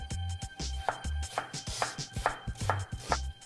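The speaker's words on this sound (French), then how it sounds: "On va couper aussi l'oignon" A knife chops an onion on a cutting board in a rapid run of about a dozen sharp, close knocks, each with a brief crisp slicing sound between the blows.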